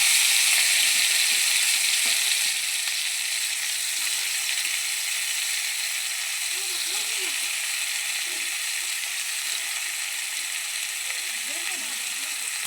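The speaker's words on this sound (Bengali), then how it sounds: "ভাপিয়ে রাখা বকুলিটা একটু হালকা করে ভেজে নেব।" Steamed broccoli frying lightly in hot oil gives a steady, close sizzle that stays even and unbroken throughout, with faint soft stirring noises now and then.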